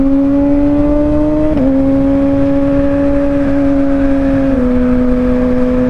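A Kawasaki motorcycle cruising in fourth gear at low RPM gives a close, loud, steady engine drone, its pitch dipping slightly twice as the throttle eases, with no talk.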